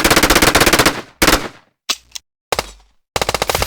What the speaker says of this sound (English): here is the MLG rifle